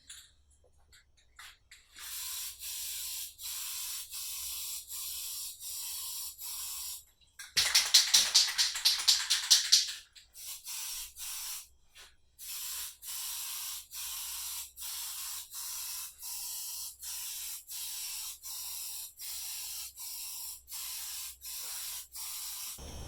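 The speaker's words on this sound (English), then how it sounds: "Remember to keep shaking the can as you're painting." A spray paint can hisses onto a set of Work Rezax wheels for a Supra, laid down in long, even bursts with short pauses between them, close and steady.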